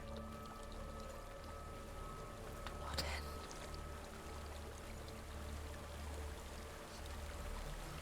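Water trickles and pours steadily in a dark cave setting in Hellblade: Senua's Sacrifice, a soft continuous stream under a faint whispered voice, with one brief louder splash partway through.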